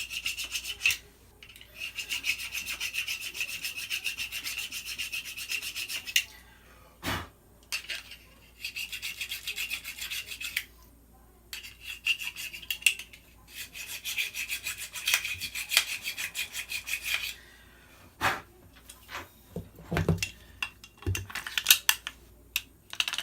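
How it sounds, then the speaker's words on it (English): A hand file rasps against a G&P gas M16A4 airsoft magazine in long, steady scraping strokes, close and fairly loud, broken by short pauses and a few knocks as the part is handled. "So I'm also going to file a little bit where it seems to be rubbing."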